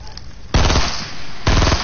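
Gunfire in the Fortnite video game: a loud, close rapid burst of automatic shots, a brief pause, then another burst, over faint background chatter.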